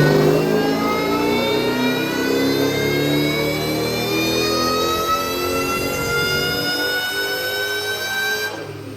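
A supercharged Saleen engine revs hard on a dyno, a loud sustained high-pitched whine of rising engine and supercharger tones that holds strong before easing off at the end.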